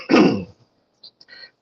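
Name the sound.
cough or throat clearing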